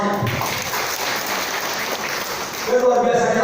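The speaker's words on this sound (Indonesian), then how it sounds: "Tepuk tangan untuk semuanya." A seminar audience for small business owners breaks into brief applause, a dense patter of clapping under a speaker's voice, with talk rising again toward the end.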